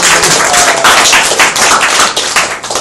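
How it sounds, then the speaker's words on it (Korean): A close, loud burst of audience clapping at a Korean reading lecture continues briskly throughout, with individual hand claps standing out in the dense applause. "큰 박수 부탁드립니다"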